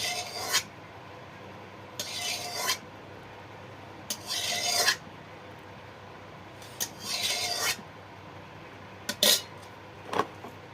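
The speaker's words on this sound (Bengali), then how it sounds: "আলুটা আমি গ্রেট করে দিচ্ছি" A potato is grated in a home kitchen while making Bengali food, heard as about six separate, sharp rasping strokes spaced irregularly against a quiet background.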